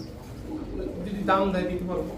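Pigeons coo at a breeding loft holding Pakistani Teddy, Kamagar, red Gorra, silver and racer pigeons, a low throaty warble swelling midway through a short stretch over steady background murmur and a voice.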